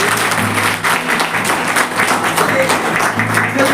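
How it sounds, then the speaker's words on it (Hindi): A room of teachers at a maths training session keeps up dense, loud clapping for the full stretch, with some voices audible underneath. "जोरदार एक बार ताली मैडम"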